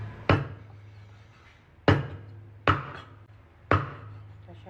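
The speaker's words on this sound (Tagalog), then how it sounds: "Mag-chop pa tayo ng ating inihaw na liempo" Four loud, evenly spaced chops of a cleaver through grilled pork belly (inihaw na liempo) on a wooden board, each a sharp thud with a short ringing tail, heard close with no talk.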